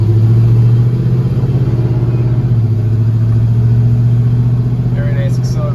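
A 1970 Chevrolet 1-1/2 ton pickup engine runs with a loud, steady low rumble that shifts slightly in pitch as the truck pulls away, continuous and close throughout.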